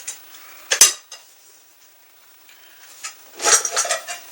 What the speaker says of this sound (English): Now this one here is a Russian cook set.